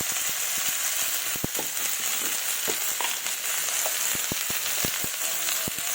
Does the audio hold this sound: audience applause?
no